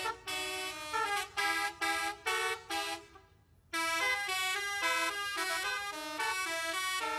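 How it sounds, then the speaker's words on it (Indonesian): Bus sounding a telolet horn as it pulls out of a souvenir shop area in the afternoon: a loud, melodic run of rapid honked notes, a short pause, then a longer multi-tone tune, close and alone. "Alunan klakson telolet yang khas menggema, membuat suasana sekitar pusat oleh-oleh menjadi lebih ramai pada sore hari itu."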